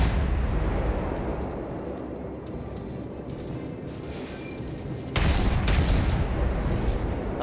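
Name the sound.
warship guns firing at the Myoko, from World of Warships video game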